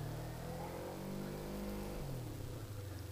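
A Kawasaki Ninja motorcycle engine accelerates as the throttle opens, its whine climbing in pitch, dropping briefly, then rising again, fairly close and moderately loud with no talking.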